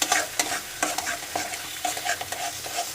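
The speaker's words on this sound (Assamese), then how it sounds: "এইখিনি অলপ টাইম ফ্ৰাই কৰি ল'ম" A spatula stirring onions, garlic and tomato frying in a pan for palak paneer, giving repeated scraping strokes in an uneven rhythm over a constant close sizzle, with no voices.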